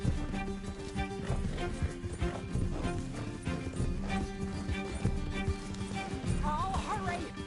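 Steady clip-clop of a horse running in Red Dead Redemption 2 under layered game music, hooves drumming continuously with a short neigh toward the close.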